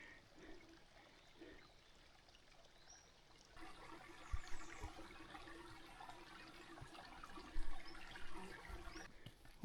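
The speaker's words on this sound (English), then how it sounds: "We did come to a nice flowing stream down here," A small flowing stream along the Centennial Trail near Mount Rushmore trickles and gurgles softly, a faint continuous water sound that grows a little busier in the second half, with no talk.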